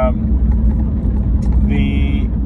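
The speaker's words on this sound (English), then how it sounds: "I got some carved road here on the highway, so it's a bit noisy" Steady loud car road roar from driving on grooved highway pavement in a BMW M2, a dense low rumble filling the whole stretch with a brief higher whine near the end.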